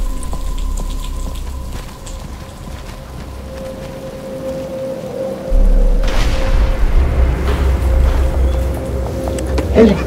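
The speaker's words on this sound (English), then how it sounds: "But it's starting to rain." Steady rain wash with a low rumble of thunder in the Batman: Arkham Asylum video game, growing louder and denser about halfway through, alongside a sustained tone and game ambience.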